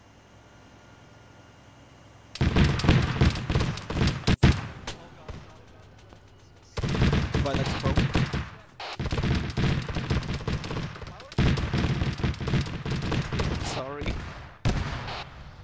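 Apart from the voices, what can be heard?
gunfire in a military video game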